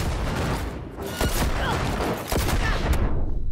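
Dense, continuous gunfire in Cyberpunk 2077, a loud fusillade of overlapping shots and booms filling the whole stretch with no pause.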